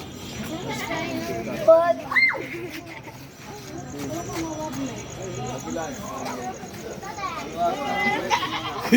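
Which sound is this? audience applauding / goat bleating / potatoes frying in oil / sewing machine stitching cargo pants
goat bleating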